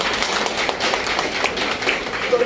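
Audience at a New Year celebration clapping together, a dense continuous patter of many hands, close and fairly loud throughout.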